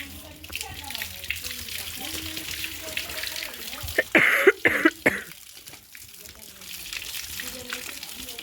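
Water is poured over a child's head during a bath, making a short splashing burst near the middle against a steady background, with voices talking throughout.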